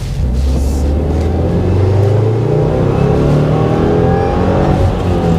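A 2020 Subaru WRX Limited with a turbocharged engine accelerating, a loud steady in-cabin engine roar whose pitch climbs smoothly as revs build, with no talking.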